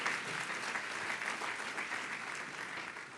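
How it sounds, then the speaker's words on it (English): A large crowd of about 400 guests at a 35th annual institute dinner applauds in a steady, unbroken wash of clapping heard from a distance, with no talk over it. "so give yourselves a round of applause"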